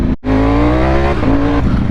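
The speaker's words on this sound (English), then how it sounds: "It's got the biggest motorcycle engine." Loud, steady engine drone from a custom Triumph Rocket 3 with its 2500cc engine, the largest production motorcycle engine. It holds a deep harmonic tone at a constant pitch, dips briefly near the start, then shifts slightly in pitch late in the run.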